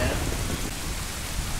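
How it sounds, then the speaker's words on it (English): A steady thunderstorm from the game Zelda: Ocarina of Time, with dense rain hiss and a low rumbling roll of thunder filling the whole stretch, no speech. "It gets all stormy and..."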